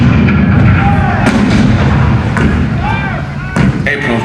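Heavy cannon fire booms out in a theatrical Fort Sumter battle scene at the Hall of Presidents, with repeated deep thuds and blasts rolling under a dense, loud rumble of battle noise.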